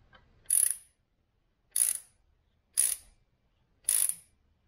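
A hand tap cutting threads into an aluminum Subaru WRX cylinder head for a heli coil repair: four separate short ratcheting clicks spaced about a second apart, close and fairly quiet, with silence between them.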